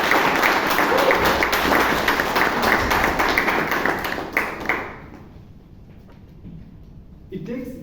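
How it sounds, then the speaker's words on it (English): Applause for Toastmaster Ganesh Pai at a Bangalore Toastmasters meeting, with brisk indoor clapping for about five seconds that dies away into quiet before a voice begins speaking. "Can we have a round of applause for Toastmaster Ganesh Pai?"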